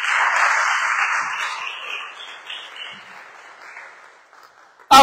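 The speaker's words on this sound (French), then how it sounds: "Acclamons très fort le Seigneur." A church congregation claps during a service, a broad wash of applause that is loudest at the start and gradually thins and fades over several seconds, ending with a brief sharp sound.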